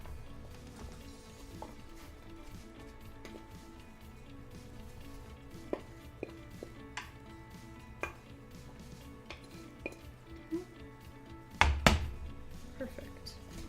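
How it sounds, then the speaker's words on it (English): Sliced apples dropped into an 8 by 8 inch pan, soft scattered taps and thuds building to a louder clatter near the end, quiet and close. "we're going to take our 8 by 8 inch pan and you're going to put the apples"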